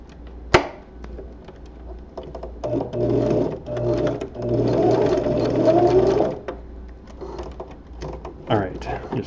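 Short runs of a sewing machine stitch a seam on spandex gloves, the motor whirring up and down close by with a few clicks, while a person talks over it.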